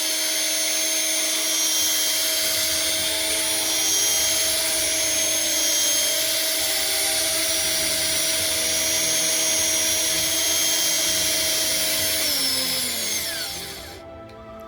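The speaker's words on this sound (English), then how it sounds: "I put the case in the chuck of the drill, and I put it on its highest speed" An electric drill spinning a .17 HMR brass cartridge case in its chuck at highest speed, whirring with a steady high whine for a long stretch, then winding down and cutting off near the end.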